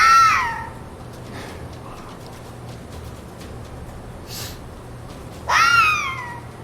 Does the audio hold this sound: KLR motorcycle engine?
no